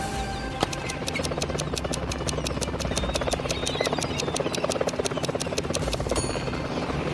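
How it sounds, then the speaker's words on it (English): A helicopter flies over a pool, its rotor chopping out a steady, rapid thudding beat that holds strong and close for several seconds with no voices. "Steve's flying in a helicopter over the pool to check the situation"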